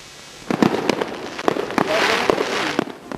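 Fireworks bursting at the opening night of the 2015 Lampung Fair at the PKORW Halim complex in Bandar Lampung: sharp repeated bangs and crackles in an irregular volley over a steady crowd-like hiss, fairly close and loud.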